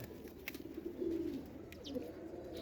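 A small, weak female pigeon, just let go, gives a faint low coo or two against quiet background noise, with a hint of wing movement.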